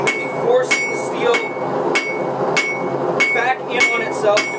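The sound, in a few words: hammer striking steel on an anvil to forge a dagger bevel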